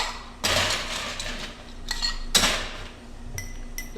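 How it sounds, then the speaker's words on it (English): Ice cubes are tossed into a drinking glass for a honey cocktail, giving two sharp clattering impacts followed by lighter glassy clinks, close and loud with no voices. "Toss some ice in the glass."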